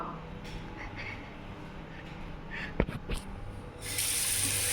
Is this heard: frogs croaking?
no